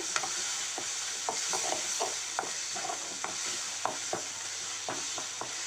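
Ground coconut and onion paste frying in a pan for Tamil fish curry, with a steady sizzle and repeated sharp scrapes of a spoon stirring.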